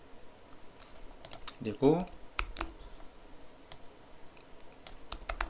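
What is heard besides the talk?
typing on a computer keyboard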